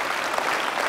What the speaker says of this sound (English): Let's just give them a round of applause one last time.